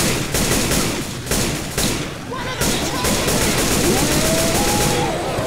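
Gunfire in the co-op zombie shooter Left 4 Dead, a loud, continuous rattle of automatic shots with a few louder bursts, plus some faint game tones.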